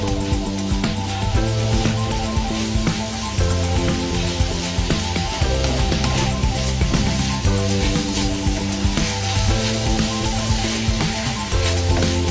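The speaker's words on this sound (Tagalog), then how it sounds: "tuloy-tuloy lang tayo sa pag-saute para hindi siya dumikit at masunog" Teriyaki hotdog slices sautéing in a pan, a continuous close sizzle with light stirring throughout, backed by steady music and no speech.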